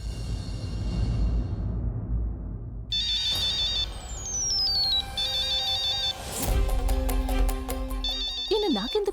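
A phone ringtone plays in a television serial scene, with a repeating electronic melody of short bright tones that starts after a moment of music and continues in loud cycles with a brief swoosh in between.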